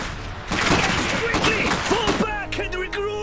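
Rapid gunfire and explosions from the real-time strategy game Iron Harvest, a loud, dense battle din with overlapping bursts, mixed with voiced unit callouts.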